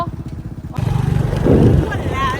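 A small motorcycle engine hums at low speed while wading through floodwater, steady and near, with people talking over it.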